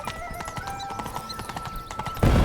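Horse hooves clip-clopping at a steady galloping rhythm after a rider spurs the mount in The Witcher 3, up close and alone, ending in a sudden louder burst of broadband noise.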